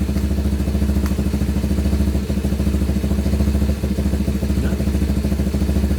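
A Honda Navi motorcycle engine idles steadily up close with a loud, even rhythmic putter, holding a constant chugging pulse throughout with a couple of small dips.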